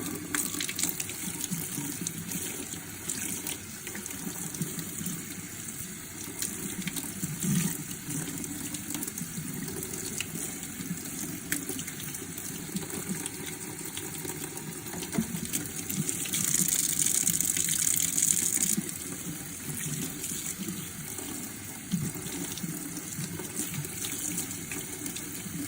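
A makeup brush is rinsed under a running tap, with a steady gush of water into a sink that swells slightly partway through and continues evenly throughout.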